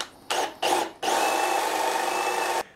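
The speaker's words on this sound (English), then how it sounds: "And with those 4 holes drilled, then we can turn our attention to the other side." Power drill boring holes into construction lumber for a simple bed frame with a jig clamped in place: two short whirring bursts, then a longer steady grinding run, loud and close, no talking.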